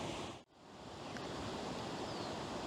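Steady broadband roar of a waterfall beside a creek along a canal towpath trail, continuous and fairly loud with no voices, briefly dipping near the start before returning to a constant rush.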